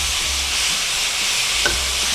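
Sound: stir-frying pork in a pan

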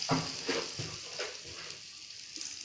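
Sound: onions sautéing in a pan

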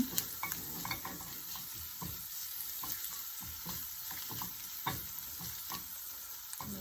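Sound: stir-frying ground pepper in pan

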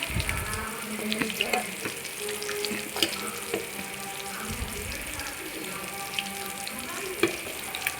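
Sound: small tuna fish frying in coconut oil with masala

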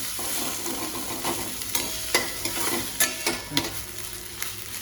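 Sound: onions frying in a pan

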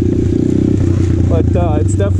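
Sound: 2020 Apollo RFZ Open 125cc pit dirt bike riding on trail

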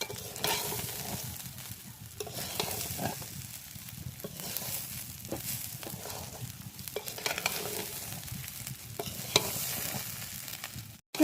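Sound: rice being fried in ghee

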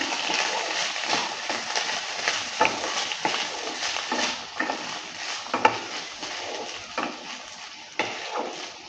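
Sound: stirring Gobindobhog rice in the pot

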